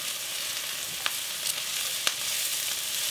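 Chicken and broccoli with vegetables stir-fry in a pan, giving a steady bright sizzle with a few faint clicks of stirring, moderately close and soft.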